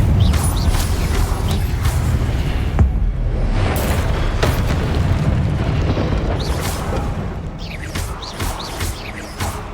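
An Incendio fire spell in the Hogwarts Legacy video game bursts out as a loud, sustained roar of booming, crackling flame with repeated crashing surges, heavy and continuous throughout.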